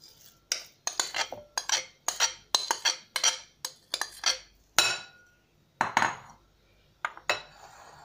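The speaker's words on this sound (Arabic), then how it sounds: "هحط الاول البطاطس المهروسة في البولة بتاعتي." Mashed potatoes dropped and scraped into a mixing bowl with a utensil, giving a run of sharp clinks and scrapes in a quick, irregular rhythm, close and clear with no talking.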